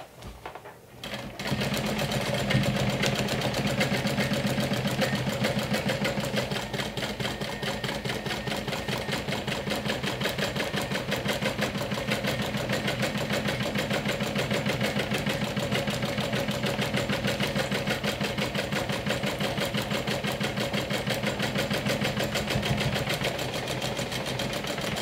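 A sewing machine runs in one long steady burst, its rapid even needle chatter close and continuous, as it back stitches a seam on a Haunted Mansion inspired crossbody bag after a brief quiet start.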